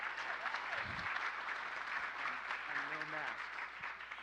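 A roomful of about 175 people at a city event applauds in a soft, distant, sustained wash of clapping, with faint voices murmuring beneath it.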